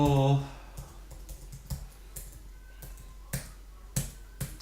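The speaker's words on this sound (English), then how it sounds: "Sorry, my typing's terrible tonight." Irregular keyboard typing, a scattering of sharp clicks and taps at uneven intervals, fairly close and moderately quiet.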